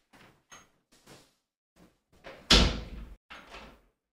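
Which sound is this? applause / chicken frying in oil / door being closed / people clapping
door being closed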